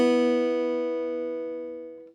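Two open guitar strings, the first and second, are plucked together once and ring out clearly, a single close chord slowly decaying over about two seconds with no voices.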